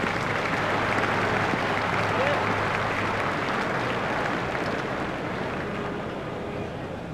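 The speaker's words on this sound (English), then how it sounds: "Crowd are giving him a great round of applause as they appreciate the importance of this knock." Cricket crowd at an England versus Scotland one-day international applauds a century, with dense, sustained clapping that fills the whole stretch and fades a little toward the end.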